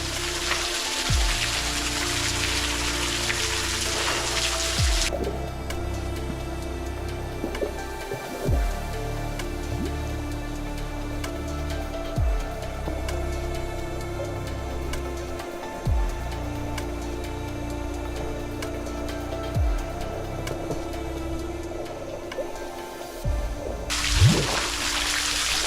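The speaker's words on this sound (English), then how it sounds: "Nice little waterfall." A small waterfall pours in a continuous rushing roar, close and steady, at a dog-friendly spot, with wind or handling bumps at the start and end.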